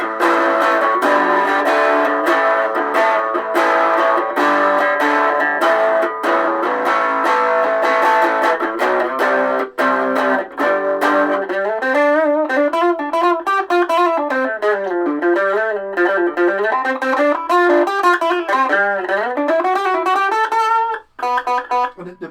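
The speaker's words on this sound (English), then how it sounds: "put the distortion on." Electric guitar run through the distortion channel of a mini amp at half volume, a loud, continuous driven tone with sustained chords shifting into a wavering, bending lead line that cuts off near the end.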